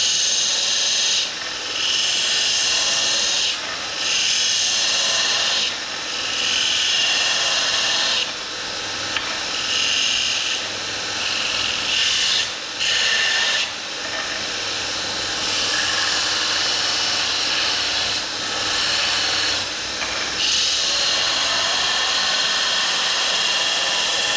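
A Bucktool 2x42 belt grinder grinds a bevel, a loud, steady abrasive rasp held for long stretches, with short gaps where the workpiece lifts off the belt. Heard close up and with no talking.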